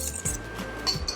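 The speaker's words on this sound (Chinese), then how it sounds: "那我们就先搅拌搅匀" A utensil clinks and scrapes against a bowl while stirring egg whites and sugar over a hot water bath for Swiss macarons. Two or three quick, close metallic knocks, with no voices.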